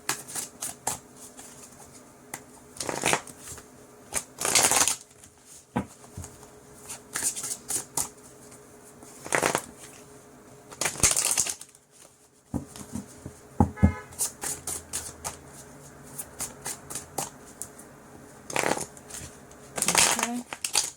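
A Mermaid oracle card deck is shuffled by hand in repeated bursts of crisp riffling and flapping, separated by short quiet gaps, close and fairly loud.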